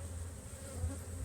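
Honey bees drone steadily at an opened hive during an inspection, a close, continuous buzz with no voices.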